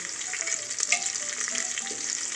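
Whole slit green chillies fry in hot oil, a bright continuous sizzle close by with small crackles and stirring noises, no voices.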